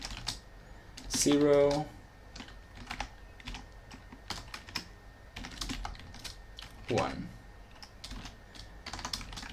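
Rapid computer keyboard typing clatters close up in uneven bursts while someone writes Unity UI code, with a person speaking over the keystrokes throughout.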